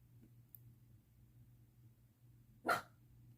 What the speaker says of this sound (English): Do not know what that dog wants.